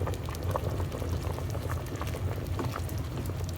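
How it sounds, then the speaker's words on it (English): Thick champorado, a chocolate rice porridge made with tablea, boils and bubbles steadily in a pot as it is stirred, with a continuous close, loud bubbling and gurgling that has no talk over it. "I still have to continue mixing it because I want the broth more thicker"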